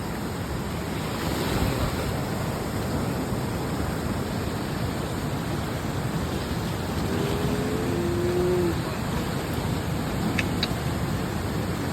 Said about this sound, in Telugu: ఎంత వాటర్ పోతున్నాయి అబ్బాబా చెప్పనికే రా అసలు అంత వాటర్ పోతున్నాయి